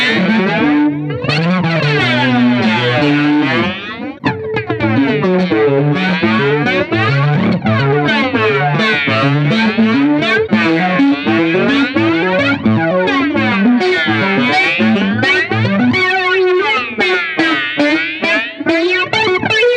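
Electric guitar through an iSet analog flanger pedal with its range maxed, giving loud, continuous jet-like sweeps with a heavy swirling, metallic, laser-like warble over sustained distorted chords for the whole stretch, with no talking.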